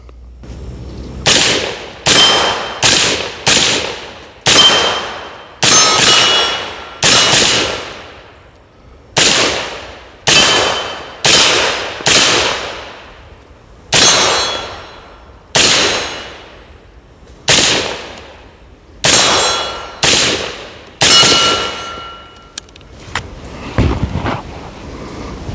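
A Rosco Mfg truck rifle fired about fifteen times, each shot a sharp loud crack with a decaying outdoor echo, spaced roughly one to two seconds apart in an uneven string with brief pauses.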